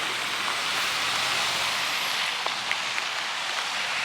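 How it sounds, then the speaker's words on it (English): Steady rain hisses down in a broad, even wash, with a few faint drips or taps standing out near the end. "The rain coming down."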